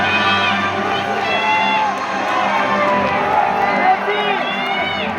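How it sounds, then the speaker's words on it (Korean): Stadium crowd at captain Jesse Lingard's farewell roars steadily, with individual shouts and cheers rising above the dense, loud, continuous din. "다시 한번 큰 박수로 함께 해주시면 고맙겠습니다"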